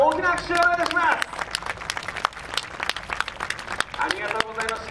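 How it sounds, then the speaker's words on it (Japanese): Crowd clapping and applause mixed with an amplified Japanese announcer talking over it after an extreme motorbike demo on a KTM Adventure at Motor Sport Japan 2016, the noise of the gathering continuing throughout. "皆さん大きな拍手をお願いします"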